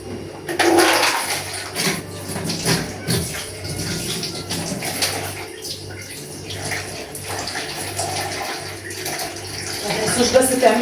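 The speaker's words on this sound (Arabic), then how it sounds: "هي عاوزة شوية ميه كمان عشان تغلب راحتها." Water is poured into a pot of okra stew, a gushing splash heard close up under a voice, with the pouring continuing in bursts.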